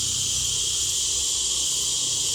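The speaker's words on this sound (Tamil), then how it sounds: "பூச்சி சத்தம் பாரு" Insects on a hill road in the Kolli Hills keep up a loud, continuous high-pitched chirring drone with no breaks, close and dominant over a faint low background.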